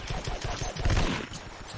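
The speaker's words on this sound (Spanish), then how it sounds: "¿Cuántos tiros te tengo que dar?" Rapid pistol shots crack in the Vietcong first-person shooter game, a quick burst of several reports mixed with game noise.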